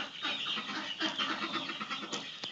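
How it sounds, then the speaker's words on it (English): Chickens and ducks clucking and calling in the background on a farm, a faint, busy mix of short bird calls with no speech. "ignore the ducks and the chickens quacking"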